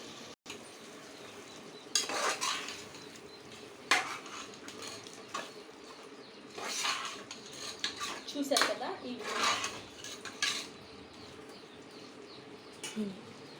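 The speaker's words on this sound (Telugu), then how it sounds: "ఈ విధంగా ఆ మ్యారినేట్ చేసిన చికెన్ మొత్తాన్ని ఈ మిశ్రమంలోకి షిఫ్ట్ చేసుకుని ఒక్కసారి మనం దీన్ని కలుపుకుందాము" Marinated chicken being stirred into the biryani mixture in a pot, with scattered clinks and scrapes of a utensil against metal and soft wet mixing, faint and intermittent.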